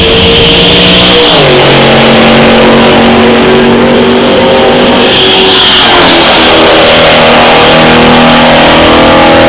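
Drag race cars launching and accelerating hard, a single-turbocharged 1968 Nova with a 400 cubic inch engine and a 1971 Buick Grand Sport, loud and close with rising engine pitch and a second surge midway.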